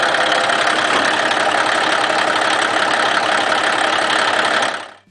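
A Caterpillar 1693 truck engine runs steadily and loudly, a dense mechanical grind with hiss and a high turbo whistle layered on top, holding constant before cutting off abruptly at the end.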